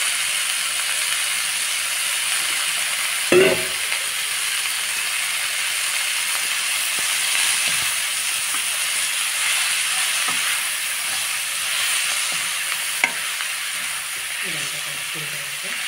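Amaranth leaves stirred into a hot frying pan give a steady, even hiss throughout, broken by a single clank of a utensil early on and faint scraping now and then.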